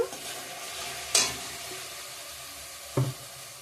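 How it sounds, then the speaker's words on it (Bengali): Spinach cooked down in oil in a pan until the oil separates, a low steady sizzle with two sharp scrapes of a spoon, close and fairly quiet, no talking. "ভালো করে কষিয়ে নিয়েছি তেল ছেড়ে দিয়েছে"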